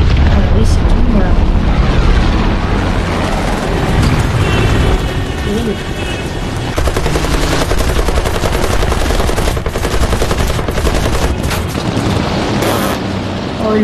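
Machine gun fire in War Thunder, dense bursts and booming impacts filling the whole stretch loudly, with someone talking over the gunfire throughout.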